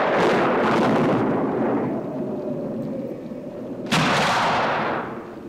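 Gunfire from the film The Amityville Horror booms loudly with heavy, rumbling reverberant blasts, a first burst decaying over a couple of seconds before a second sharp report hits near the end, with no talking.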